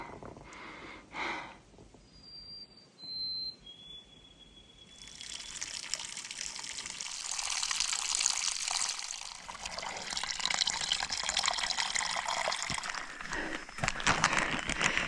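Water trickling and splashing as it is collected at a backcountry campsite water source near Guyot Campsite in the White Mountains, a faint dribble at first, then a steady, close, broadband rush of running water for the rest of the clip.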